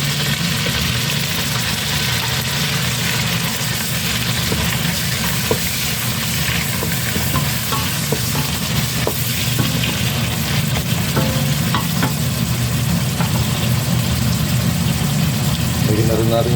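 Onion and tomato sautéing in a pan for Ilokano-style pinakbet, a steady broadband sizzle running throughout beneath a low, droning engine-like hum, with no clear voices.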